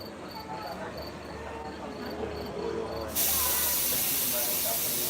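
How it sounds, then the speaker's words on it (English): Air brake test on a Strasburg Railroad train: a low rumble and faint chirps give way to a sudden loud, sustained hiss of released air, near and steady to the end. "They're doing their brake test right now."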